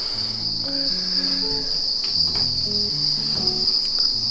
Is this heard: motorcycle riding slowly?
no